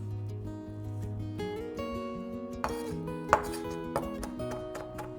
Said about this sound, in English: First, mince the scallions.